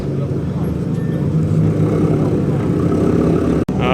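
Cars, including a Nissan Skyline and a heavily modified Ford Focus, roll past at a Cars & Caffeine meet at Combermere, making a loud, steady engine and road rumble close by, with voices talking over it.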